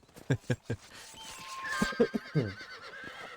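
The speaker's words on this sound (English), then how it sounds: "our horse is kind of freaking the fuck out that we're skinning the same species as him" A horse in the Red Dead Redemption video game whinnies loudly in a rising, shaky neigh, with hoof clip-clops and other game sounds around it and a voice talking over the top.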